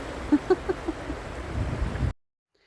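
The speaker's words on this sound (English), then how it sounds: "And the noise of the river." A river flowing near a campsite in rural Australia, a steady broadband rushing that swells toward the end before cutting off, with a few brief faint tones early on.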